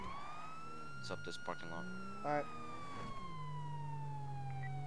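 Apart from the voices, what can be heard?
police siren in GTA 5 video game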